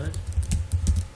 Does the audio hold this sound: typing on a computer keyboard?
yes